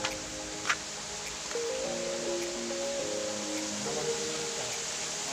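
Cold spring water at Payao Spring runs from a faucet in a steady, fairly soft rushing hiss. Faint tonal sounds drift in the background partway through.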